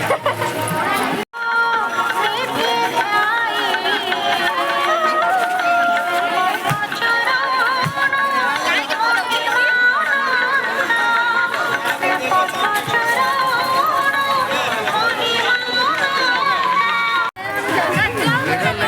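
A dense crowd outside the Samaleswari temple, with a loud, continuous babble of many voices close by and some footsteps and movement, while someone talks nearby.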